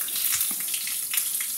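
Water pours steadily and harder from an outlet rather than dripping, a continuous splashing hiss with small irregular spatters, close and moderately loud, without talking.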